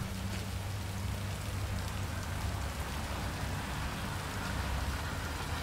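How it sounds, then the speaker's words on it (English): Rain falls steadily in the Hitman 3 video game, a dense, even hiss of drops on surfaces that continues without a break at a constant level. "I'm never going out in the rain again."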